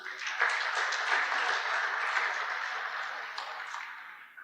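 A round of applause for an award winner at a no-till farming club conference, with many hands clapping steadily in a dense wash that holds throughout and fades slightly toward the end.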